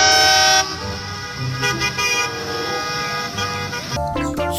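Toy school bus horn honking with a loud melodic toot, bright harmonic tones over a busy background of music-like sound, strongest at the start and again near the end.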